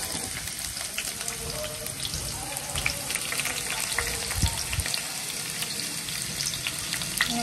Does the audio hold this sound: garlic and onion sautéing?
yes